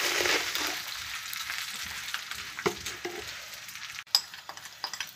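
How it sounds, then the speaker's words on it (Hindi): An egg fries for an omelette in a pan, a steady loud sizzle that fades slightly, with a few light clicks and scrapes toward the end. "अंडा फ्राई कर रहा है"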